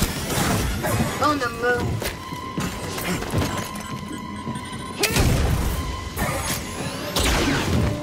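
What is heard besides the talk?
grenade explosion in the video game Star Wars Jedi: Fallen Order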